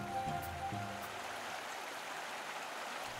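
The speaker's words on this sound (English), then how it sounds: "the mighty river flows gently downstream" The Ganges flows across the plains of Uttar Pradesh as a steady, soft rushing of water, an even broadband wash with a faint tonal hum early on.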